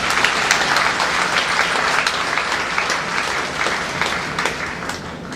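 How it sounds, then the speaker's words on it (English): Audience applause at a magic and illusion show aboard a Marella cruise ship, dense sustained clapping from a large crowd, fairly loud and continuous with a few sharper claps near the end. "Give a round of applause,"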